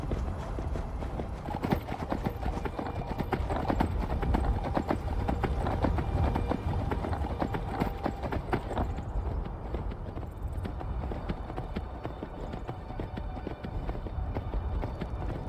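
Steady rapid clip-clop of galloping horse hooves in the video game Skyrim running throughout, loud and close, with a brief horse whinny and no talking.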